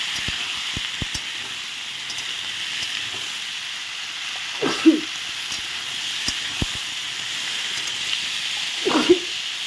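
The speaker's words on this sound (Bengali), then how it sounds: "এখন একটু নেড়ে নেই আমি সবজিটা ভালো করে" Mixed vegetables (pointed gourd, eggplant, green chili) frying in a pan, a steady sizzling hiss throughout, with a few scraping stirs of a spatula around the pan and scattered soft clicks.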